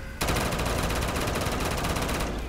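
Rapid automatic gunfire from a weapon in Black Ops 3 custom zombies on the remastered Bus Depot map, a loud, dense, unbroken burst of shots close up that starts abruptly and keeps going.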